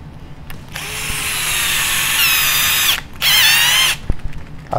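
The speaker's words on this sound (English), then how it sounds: "Don't run them all the way in with the drill, especially the first time." A cordless power drill whines at high speed as it drives screws into the plastic chassis of a Tekno NB48 2.1 RC buggy kit, two sustained bursts with pitch shifting under load and a short pause between, loud and close.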